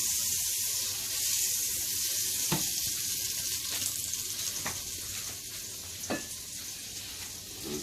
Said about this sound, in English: we got some butter going on here